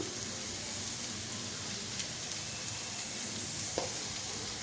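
Egg fried rice sizzling in a pan with coriander powder, a steady hiss of frying with faint stirring scrapes and one brief clink near the end, no voices.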